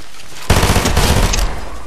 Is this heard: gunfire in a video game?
yes